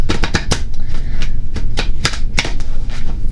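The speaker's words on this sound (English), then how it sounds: "please excuse my shuffling here" Tarot cards are shuffled in a rapid run of crisp, snapping taps and flicks, close up and fairly loud, aboard a ship.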